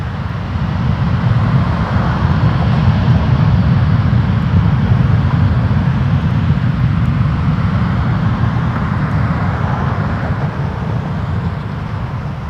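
Air Canada flight 743 airliner taking off at Toronto Pearson Airport, a steady broad jet roar that swells slightly and stays loud throughout.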